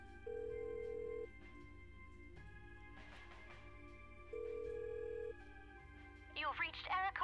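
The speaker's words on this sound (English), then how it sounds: "Alright, I'm just gonna try the phone one more time" A telephone in the adventure game Kathy Rain gives two long ring tones over a steady synthetic backing, then a short burst of electronic chirping.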